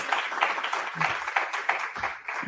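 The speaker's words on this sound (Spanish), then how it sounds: "Aplaudimos" An audience at a talk applauds in a sustained wash of overlapping claps, moderately close, with a few low murmurs underneath.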